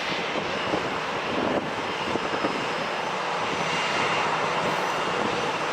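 A steady, loud roar of an airplane engine at San Diego International Airport fills the air continuously, with wind buffeting the microphone.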